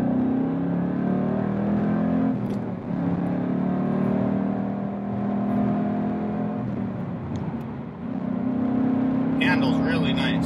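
A Ford Mustang Boss 302 pulls hard on the interstate, its engine holding a steady loud drone from inside the cabin, with a brief dip as it shifts before the roar climbs again.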